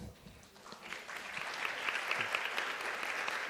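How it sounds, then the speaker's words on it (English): Audience applause at a breakout-room panel session of an international conference on equitable education, a steady wash of many hands clapping that swells slightly and holds, fairly quiet and distant. "If I can invite a round of applause."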